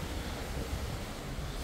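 Steady rushing wind buffets the microphone in a Disney Wonder cruise ship suite, a continuous broad roar with low gusty rumbling underneath.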